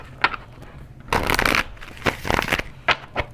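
Cards being shuffled in several quick bursts of riffling and flicking, close by, with brief pauses between, no talking.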